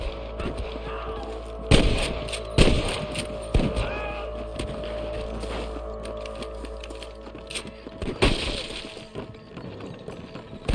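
Gunfire in the Red Dead Redemption video game: several sharp, loud gunshot cracks at irregular intervals, some near and some more distant, over a steady low background rumble with no talking.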